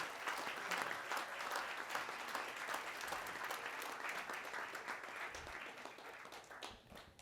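Sustained audience applause fills an awards ceremony honoring community civil rights champions, a dense steady patter of many hands clapping at moderate distance that tapers slightly toward the end.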